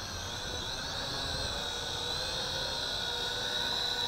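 A mini quadcopter carrying a small 1080p camera descends in automatic landing mode, its motors giving a steady, close, high-pitched whirring drone that holds an even level throughout.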